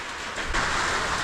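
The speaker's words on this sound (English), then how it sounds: "Sun is shining and it is raining." Rain falling on a roof on a sunny day at an off-grid home, a dense steady wash of pattering that swells slightly louder partway through, close and continuous with no voices.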